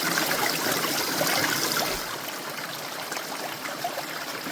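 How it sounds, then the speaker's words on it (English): A mountain stream serving as the water source at a shelter on the Appalachian Trail, a close, continuous splashing trickle and gurgle that softens slightly partway through, with no voices. "Here's the water source for the Mt shelter."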